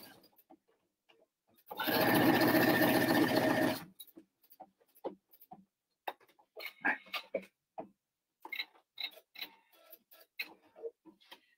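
Sewing machine stitching over the edge of fabric for an elastic casserole cover: a loud, fast mechanical whirring burst lasting about two seconds, up close, followed by quiet clicks and handling noises.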